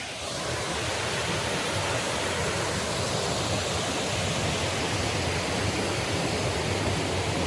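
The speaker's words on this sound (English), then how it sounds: "Here's a little waterfall." A small waterfall beside a hiking trail pours in a steady, broadband rushing hiss, close and continuous with no variation, and no one talking over it.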